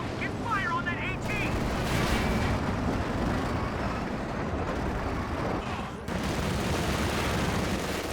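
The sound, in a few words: gunfire in video game Company of Heroes 2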